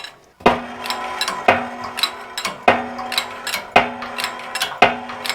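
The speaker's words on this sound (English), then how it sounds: "what you're hearing there is just that steel sleeve starting to press down through the radius arm" A hydraulic press forces a steel sleeve and bushing through a Suzuki Jimny radius arm, giving sharp metallic cracks and creaks at a roughly steady pace of about one per second, each with a brief ringing tail, close up.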